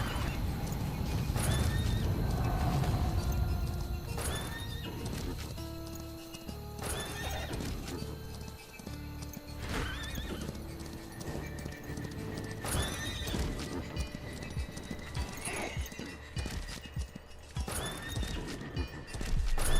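Horse neighs and whinnies alongside steady clip-clop of hooves in a video game, with repeated loud whinnies over continuous galloping hoofbeats and game ambience, no talking.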